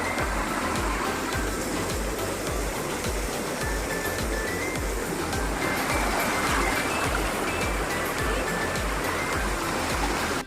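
A waterfall roars in a constant, full-bodied wash of falling water that stays close and loud for the whole stretch, with no talking over it.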